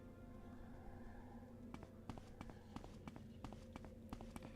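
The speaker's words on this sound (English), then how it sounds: "My footsteps are so loud." Loud, distinct footsteps in a video game, sharp regular thuds starting after a quiet opening and continuing steadily close by over a low ambient hum.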